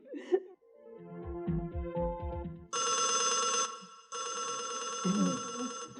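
An old telephone bell rings in a drama scene, two loud, bright ringing bursts separated by a brief pause, following some low tonal sounds and with no talk over the rings.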